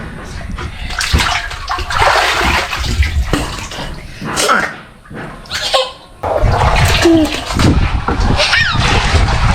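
A person dunks and splashes in water during an Eid outing, with continuous loud sloshing and splashing up close, broken by a brief lull, while voices talk and call out over it.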